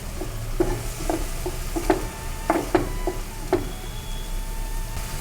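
Roasted ground spice mix sautés in a pan with a soft background sizzle while a spoon scrapes and taps against the pan in irregular clicks, close and fairly quiet.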